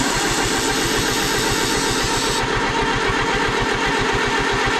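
An Oliver 550 tractor engine fires and settles into a steady, loud, thumping idle, its rhythmic low pulses continuing throughout with no talk over it.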